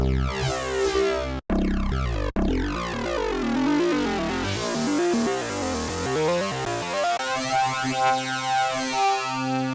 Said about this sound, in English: changing the sine wave here to something like, I don't know, square wave.